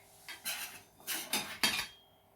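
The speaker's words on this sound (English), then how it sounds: "get a spoon, a small spoon, and start scooping your egg yolk" A small spoon scoops cooked egg yolk out of halved eggs for devilled eggs, making four short scraping clinks against the dish, close and fairly quiet.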